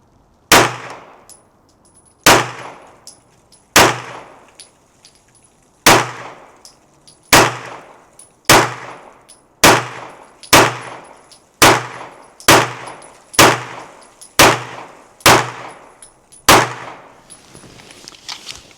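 A Daniel Defense H9 9mm pistol fires roughly fifteen sharp, loud shots at an outdoor range, spaced about one to one and a half seconds apart, each crack ringing briefly before the next.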